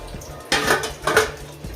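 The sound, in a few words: idli steamer pot being set up with water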